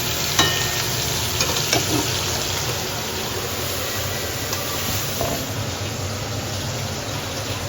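Bori fritters fry in hot oil with a dense, continuous sizzle close by, steady throughout with a few faint stirring knocks early on.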